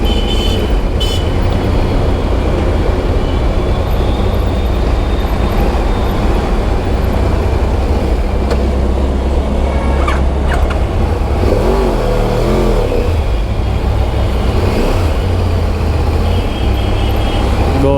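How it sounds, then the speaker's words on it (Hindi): A Yamaha R1 Crossplane 1000cc inline-four sportbike engine growls steadily and loudly, close by. A deep continuous rumble holds throughout, with no talk. "I'm sorry if I scared anyone with this growling"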